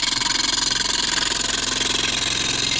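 A wood lathe spins a snowman Christmas decoration from a blank, its motor droning with a rapid rhythmic thumping pulse from the off-round wood and worn bearings, steady and close, no talking.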